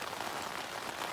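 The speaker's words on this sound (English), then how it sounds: "And then the rain came, so now we're just holed up in the tent." Steady rain patters on a tent at night on the Appalachian Trail, a dense, even hiss with no breaks, close and moderately loud throughout.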